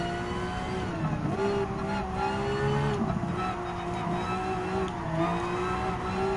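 Racing cars in Gran Turismo 7, including a Porsche, with a continuous engine drone that dips and rises as the car brakes and another car passes close by, plus faint tire noise.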